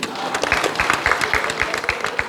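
An audience at an event applauds, a dense burst of many hands clapping in quick rhythm, fairly close and loud, with some voices mixed in.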